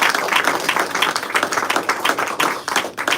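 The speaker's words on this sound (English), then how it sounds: "I also want a big round of applause for the staff here at the bunker." A bar crowd at the bunker breaks into a lively round of applause, dense and close clapping with no pause throughout.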